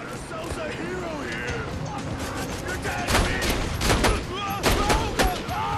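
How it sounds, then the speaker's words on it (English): Rapid machine gun fire from Borderlands 2 rattles in quick, sharp bursts that grow denser and louder in the second half, layered over constant game ambience. "That was a machine gun."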